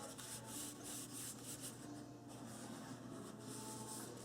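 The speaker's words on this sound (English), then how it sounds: "Just take your fingernail or a wood stick, orange stick, and just burnish that off, rub it off." A wooden orange stick burnishing glued paper on a mini album page, a quiet rapid rubbing scratch repeated in short rhythmic strokes, close and alone.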